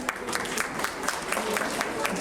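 Audience applause at a corporate social event in Kolkata, a dense wash of clapping from a crowd in a hall, steady and moderately loud throughout.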